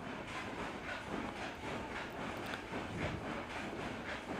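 An AC/DC remote-control ceiling fan running at speed 3 gives off a soft, steady whooshing hum with a faint rhythmic pulsing, low in level and continuous, with no voices.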